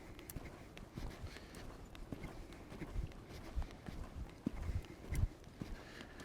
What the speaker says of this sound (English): We're cantering left.